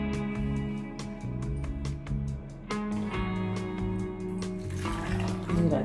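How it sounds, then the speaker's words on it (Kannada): Water pours into a pressure cooker holding two large raw bananas and a couple of potatoes, a steady close splashing stream with clinks and rising gurgle as it fills. "ನೀರು ಹಾಕಿ"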